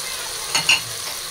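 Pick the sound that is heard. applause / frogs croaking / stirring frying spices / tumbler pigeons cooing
stirring frying spices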